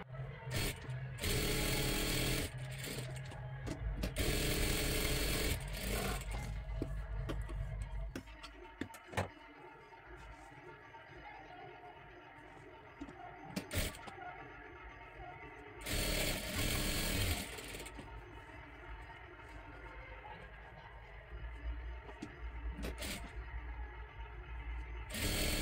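A sewing machine runs in bursts while stitching along the very edge of a blouse lining, loud rapid mechanical clatter starting and stopping several times, with quieter handling and pauses between runs.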